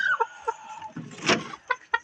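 Native Visayan chickens on a provincial farm cluck in short, close bursts: a few quick calls at the start, a louder scuffling flurry in the middle, and two sharp clucks near the end, with no talking.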